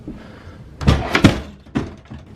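A few hollow thunks and knocks in quick succession as a capsule hotel fold-down table collapses, fairly close and with no voices.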